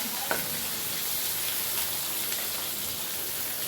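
Onion frying in hot oil with popped mustard seeds for a quick sambar, a steady close sizzle throughout with faint stirring, no talk.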